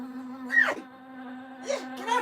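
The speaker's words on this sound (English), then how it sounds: "It's a bee, and it does not have a steady beat." A bee buzzes close by in a steady droning hum, broken twice by brief wavering swoops as it moves around, with no voices.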